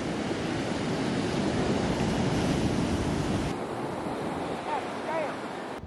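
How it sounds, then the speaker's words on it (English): Waves break and wash continuously on a beach in Virginia in December, a loud, dense roar of surf mixed with wind buffeting the microphone, steady throughout with no voices. "We are at a beach."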